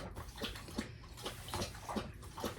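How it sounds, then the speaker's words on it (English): A dog laps water in quick, rhythmic wet slurps, quiet and fairly close, with no voices over it. "I can hear my dog lapping water."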